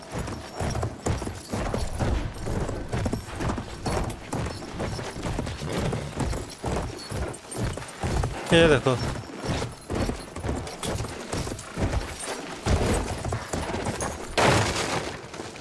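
A horse gallops in the video game Battlefield 1, steady clip-clop hoofbeats running throughout under near constant talk, with distant gunfire bursts and booms mixed in.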